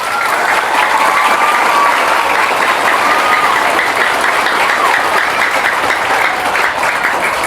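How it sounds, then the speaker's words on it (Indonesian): A large crowd at an Islamic sermon gathering in an Indonesian village applauds with loud, dense, sustained clapping that fills the whole stretch without pause. "Tepuk tangan untuk kiai dan pesantren."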